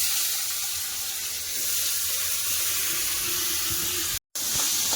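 Potatoes sizzle steadily and loudly in hot mustard oil, a dense, continuous crackling hiss broken by one brief silence.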